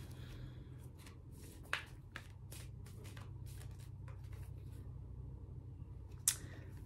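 Tarot cards are shuffled close by, making soft papery riffles and light taps with a few sharper snaps, over a steady low room hum and with no talk.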